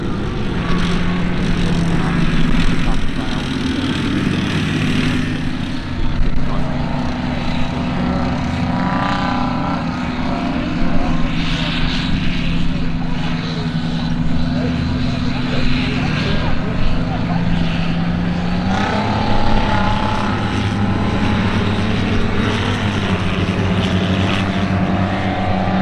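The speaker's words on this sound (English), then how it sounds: "it's an armoured personnel carrier going past the front of the motor" An armoured personnel carrier rumbles past at a military vehicle show, a steady low engine drone with track and road noise rising and fading at mid distance, with crowd chatter mixed in.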